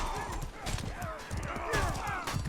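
Horse hooves clip-clopping in a medieval siege video game alongside a catapult, quick rhythmic hoof beats with a brief whinny, under commentators talking.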